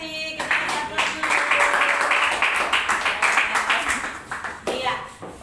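A classroom audience claps after a group presentation at a high school, a dense burst of applause from many hands lasting several seconds before fading out.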